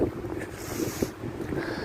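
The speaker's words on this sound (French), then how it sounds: "une sacrée rafale" Strong wind gust buffeting outdoors during a winter storm, a steady broad roar of wind noise across the microphone with slight surges, no talking.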